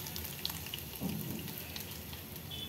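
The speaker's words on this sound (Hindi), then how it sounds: "जैसा अपन अदरक लहसुन फ्राई करेंगे ना, तो ऑयल खुद ब खुद गर्म हो जाता है।" Chopped ginger and garlic fry in hot oil, a soft, steady sizzle with light crackles and pops, faint and continuous without talk.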